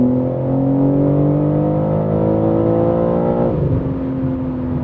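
A 2023 BMW M3 50 Jahre Edition in its most aggressive automatic shift mode, its engine rising steadily under hard acceleration from inside the cabin, then dropping sharply as a quick gear shift lands and the drone resumes lower.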